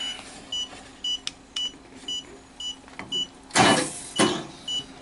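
A jump starter pack emits short, evenly spaced electronic beeps in a steady rhythm, close by, with a couple of louder mechanical whooshes partway through.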